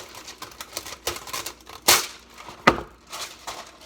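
Parchment paper torn off a roll in a home kitchen, two sharp ripping bursts standing out among softer rustling and handling noises close by.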